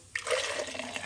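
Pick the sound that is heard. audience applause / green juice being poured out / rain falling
green juice being poured out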